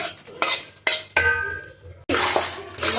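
A ground mixture is stirred in a pot with several loud, close scraping strokes and clinks against the metal, separated by brief pauses.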